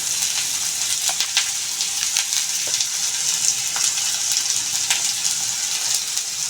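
Onion and curry leaves sizzle in hot oil for a gorikayi palya, a steady close crackling fry with sharp spattering pops throughout and no voices over it.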